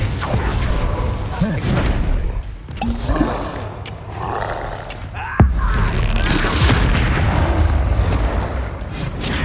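A Bombarda blasting spell explodes in the Hogwarts Legacy video game amid combat, loud rumbling booms and roaring creature noises layered with clashing mechanical effects and shouted voices.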